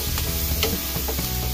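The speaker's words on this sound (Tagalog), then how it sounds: "Ihalo na natin yung ating sahog." Vegetables and ingredients being stirred in a hot frying pan for sotanghon with string beans and squash, with a continuous close sizzle broken by several scraping stir strokes.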